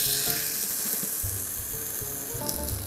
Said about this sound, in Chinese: 依個過程大概煎佢塊皮大概6-7分鐘到啦